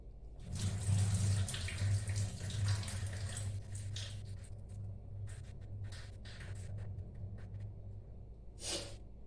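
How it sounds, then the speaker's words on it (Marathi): Water runs steadily from a tap into a bowl, splashing and swirling as whole masoor lentils are rinsed, with a brief louder gush near the end. "याच्यात पाणी घालून जरासं धुवून घ्यायचं ते"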